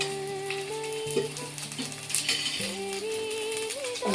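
Green chillies sizzle and fry in hot oil for an egg green masala, with a steady close crackle and occasional stirring scrapes throughout.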